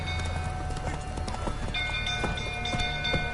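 Roach, the horse in The Witcher 3, galloping with steady rhythmic hoofbeats at close range over a continuous game background with faint tonal hums.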